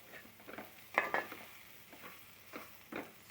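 Bitter gourd fry being stirred in a pan with a spatula, giving a few soft scraping strokes over a faint sizzle, close and quiet.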